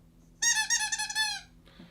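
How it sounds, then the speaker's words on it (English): A dog's squeaky toy gives one sustained, wavering squeak about a second long, close and clear against a quiet background. "This is a dog's squeaky toy."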